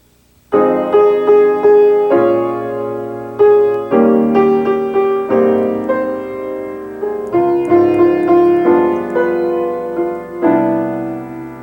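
A jazz standard is played on a piano straight from the sheet music, plainly and evenly, chord by chord with ringing sustained notes, no voices.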